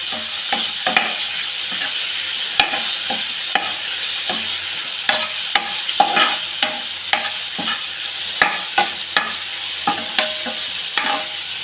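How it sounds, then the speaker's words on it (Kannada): Finely chopped dill leaves fry in a pan with a steady sizzle, while a spatula stirs and scrapes repeatedly with sharp, close clicks and taps over the constant hiss. "ಸಬ್ಬಸಿಗೆ ಸೊಪ್ಪನ್ನ ಹಾಕ್ಕೊಳ್ಳಿ. ಸೊ ಅಷ್ಟನ್ನು ಹಾಕಿ ಚೆನ್ನಾಗಿ ಫ್ರೈ ಮಾಡ್ಕೊಳ್ಳಿದ್ದು."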